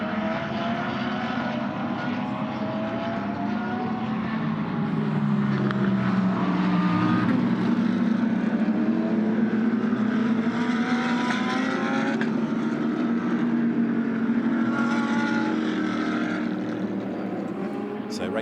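GT race cars of the ADAC GT Masters 2016 series lapping the Sachsenring circuit, engines droning and rising in pitch as they pass, a continuous loud roar with shifting whines heard over distant track ambience.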